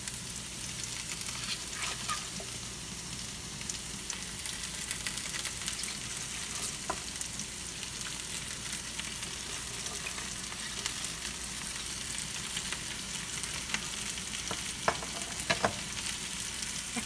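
Potatoes fry in a pan with spring onion greens added, sizzling steadily as a utensil stirs and scrapes through them with occasional sharper clinks, and no one talks.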